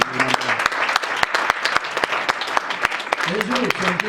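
A church congregation claps loudly and continuously during a worship service, with a voice carrying over the sustained applause.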